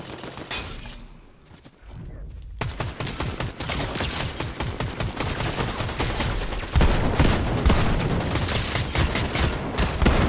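Rapid bursts of gunfire crackle through a Fortnite match, dense repeated shots following a short quiet gap and growing louder and more continuous toward the end.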